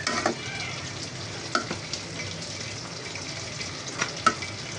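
Poa fish frying lightly in a pan, a steady close sizzle with occasional stirring clinks and sharper pops throughout, no voices.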